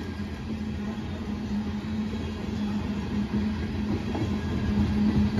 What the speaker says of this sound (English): Because I think this train is starting to slow down.